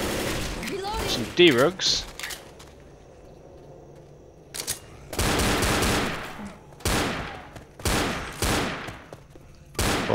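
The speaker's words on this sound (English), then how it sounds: "I'll shoot him while I'm running backwards" Left 4 Dead gunfire in bursts: a rapid rattle of shots early, then several loud sustained volleys separated by short gaps, with voices talking between and over them.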